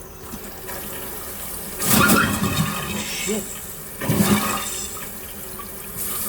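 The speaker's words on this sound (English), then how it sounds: "we got the water supply hooked up. Let's give it the on switch." A newly installed toilet fills after its water supply is turned on, with two surging bursts of rushing water over a low steady hiss; a man swears briefly.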